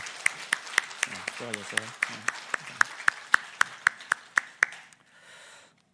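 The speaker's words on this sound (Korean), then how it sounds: "우리 수고한 강희현 자매를 위해서 박수 한번 할까요?" Sharp, evenly spaced clapping from a church congregation at a Christmas Day Sunday service, about four claps a second and fairly near. It runs for roughly five seconds, with a voice speaking briefly partway through, then fades into soft noise.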